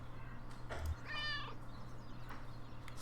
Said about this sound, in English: Skeptical meow.